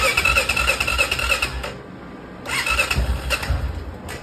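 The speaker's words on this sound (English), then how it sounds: "a couple of bumps of the throttle." A carbureted engine being brought back to life, bumped on the throttle in two loud bursts separated by a brief lull, each rev rising with a squealing, rasping edge close by.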